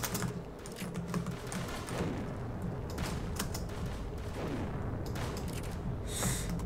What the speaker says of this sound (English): this is the trash BB shotgun